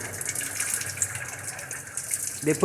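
Tap water runs steadily to cool a laboratory distiller, a continuous hissing flow at moderate volume with no voices, ending in a brief clatter.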